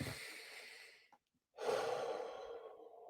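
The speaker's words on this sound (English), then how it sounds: "that nice deep breath that comes with peace" A deep, peaceful breath drawn in and let out slowly, a soft airy inhale followed by a brief pause and a long, relaxed sighing exhale, close and alone.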